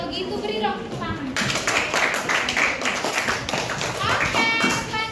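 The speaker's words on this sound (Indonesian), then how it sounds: "kalau gitu beri dong tepuk tangan" Applause from a group of children in a classroom, dense claps of mixed loudness running throughout, with some young voices calling out over it.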